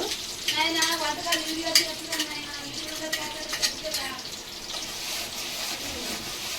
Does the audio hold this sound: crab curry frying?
yes